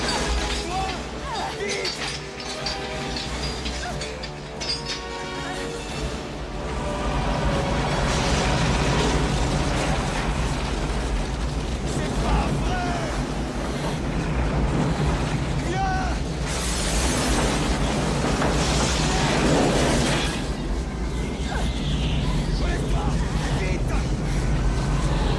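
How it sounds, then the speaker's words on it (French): A film explosion inside a tunnel packed with cars unleashes a long, loud roar with crashing and shattering debris, sustained rumbling swells building over the scene. "Une explosion se produit à l'intérieur d'un tunnel où de nombreux automobilistes se sont engouffrés"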